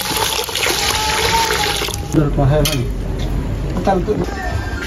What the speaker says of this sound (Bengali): ডাল পানি দিয়ে কিছুক্ষণ ভিজিয়ে রাখবো।